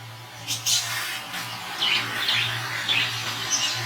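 Quail on a small poultry farm chirp in short repeated bursts over a steady low hum, the calls coming every second or so at moderate loudness with no talking.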